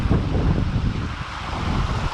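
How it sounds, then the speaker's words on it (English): The Santa Fe River waterfall pours in a loud, steady broadband roar with heavy low rumble, constant throughout with no voices. "Real waterfall."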